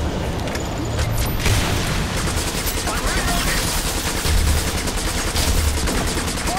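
Loud, dense gunfire sprays in continuous bursts in the video game Section 8: Prejudice, with booming impacts layered over the rapid shots.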